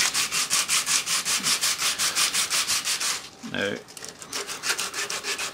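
Rhythmic rasping of sandpaper rubbed by hand over a wooden knife handle for a Ka-Bar Potbelly, steady close strokes that pause briefly and then resume.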